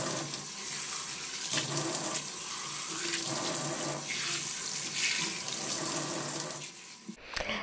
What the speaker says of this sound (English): I'm going to rinse mine out in the kitchen sink. Don't forget to use cold water